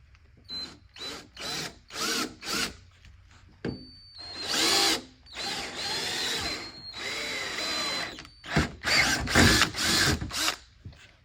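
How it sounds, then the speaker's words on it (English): A 1/4-inch drill bores into a stick wrapped in tape while fitting a retro spin lever kit, running in repeated short bursts with a few longer sustained runs, close and fairly loud with no talking. "take my 1/4-inch drill"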